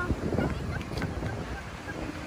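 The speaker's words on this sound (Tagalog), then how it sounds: "Medyo mahangin guys." Strong gusty wind buffets the microphone with a loud, rumbling roar throughout, with a faint voice briefly under it.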